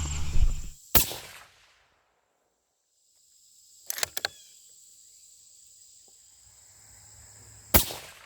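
A 6.5 PRC rifle firing 140 gr Nosler Partition loads: two sharp reports about seven seconds apart, with a brief cluster of mechanical clicks between them and a low hum in the background.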